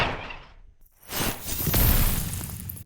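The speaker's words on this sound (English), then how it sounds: "there's this wind gust" A brief noisy swell fades to near silence, then a broad rushing gust of wind builds and roars for a couple of seconds before cutting off.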